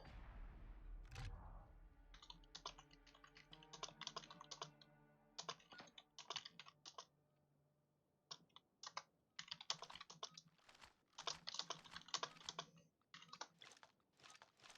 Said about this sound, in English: Sorry if you heard my keyboard there, guys. I can type kind of loud sometimes.